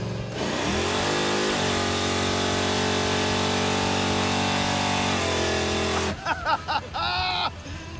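Supercharged, fuel-injected Chevrolet Impala accelerating hard from a roll and spinning its tires, a loud sustained engine roar with a rising pitch that drops off and breaks into choppy tire and exhaust noise near the end.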